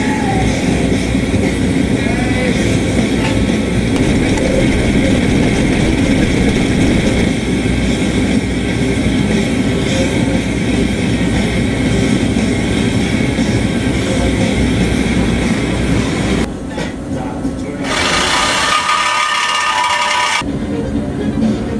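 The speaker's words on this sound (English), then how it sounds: "let's get the truck jacked up and start chopping exhaust pipe off" Cutting tool saws through the exhaust pipe under a jacked-up Dodge Dakota with the 3.9 engine, a loud, continuous, harsh grinding roar that carries for most of the clip and then drops off abruptly near the end.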